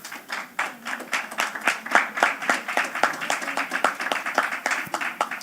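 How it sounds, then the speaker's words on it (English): A small audience gives a round of applause for the Taiwan Technical Mission at a youth investment forum, distinct individual claps in an uneven rhythm, moderately close and steady for several seconds. "let us give a round of applause to the Taiwan Technical Mission."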